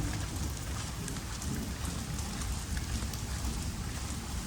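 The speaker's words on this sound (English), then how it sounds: "Man, it's raining." Heavy rain pours steadily around a truck during a bad thunderstorm, a dense continuous hiss with low rumbling underneath, loud and close throughout with no talking.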